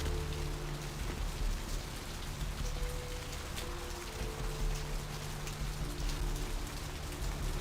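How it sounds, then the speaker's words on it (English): Steady rain ambience from the video game Vampire the Masquerade: Bloodlines, a dense continuous patter of raindrops over a low background hum, with no voices. "this game's like aesthetics, like the rain and the sound effects and stuff are really nice."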